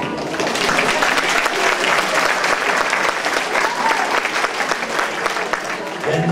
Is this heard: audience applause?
yes